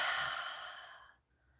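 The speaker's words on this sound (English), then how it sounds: "keep breathing in through your nose." A single long breath drawn slowly in through the nose, loud and close, tapering off into near silence.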